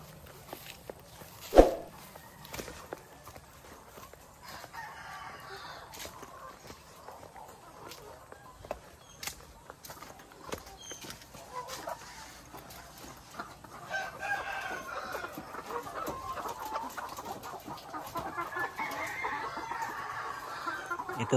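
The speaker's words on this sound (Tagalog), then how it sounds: "Ito po yung mga bago nating manok, decal white po." Caged layer hens of a white breed in a poultry farm's layer building cluck and murmur in a low, continuous chorus. A sharp knock sounds early on, and footsteps shuffle nearby.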